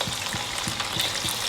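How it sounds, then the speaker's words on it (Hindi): Marinated boneless chicken deep frying in hot oil, a steady close sizzle with a low rhythmic pulse of bubbling under a bright hiss. "इसको अब करेंगे हम फ्राई,"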